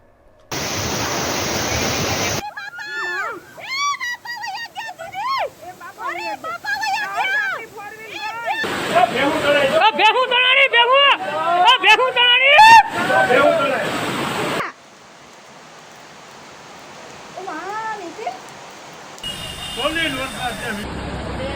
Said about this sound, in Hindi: गिरनार का पानी जूनागढ़ शहर में घुस गया है।